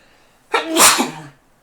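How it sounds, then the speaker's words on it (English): A single close, loud sneeze with a short breathy buildup and a sharp burst, then quiet. "I have to sneeze."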